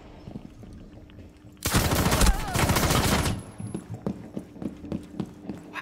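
Automatic gunfire in a shooter video game: a loud, dense burst of rapid shots lasting under two seconds, with quieter scattered clicks and thuds before and after.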